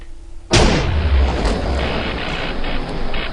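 A GregTech machine blows up in modded Minecraft: one sudden loud boom at the start, then a long rumbling roar of debris that slowly tapers off.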